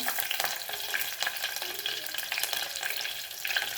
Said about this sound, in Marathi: आता कढीपत्ता टाकला आणि त्यामध्ये घालणार आहोत आपण काळा मसाला